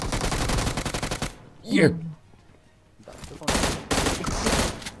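A shooting video game's gunfire rattles as a magazine is emptied in a long rapid burst, then breaks off for a short spoken word and a lull before more sustained automatic bursts resume.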